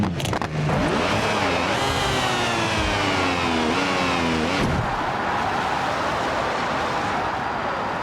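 Lamborghini Murcielago in the BeamNG Drive video game accelerating flat out, its engine pitch climbing through several rapid gear changes before settling into a loud, steady roar, close and continuous.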